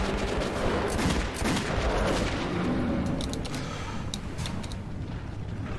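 Hip-fired gunshots in the shooter Metro 2033, a loud rapid burst of automatic fire at first that thins to a few scattered sharp shots toward the end.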